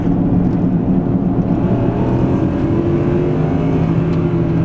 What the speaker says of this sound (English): Now let's go ahead and hit the gas.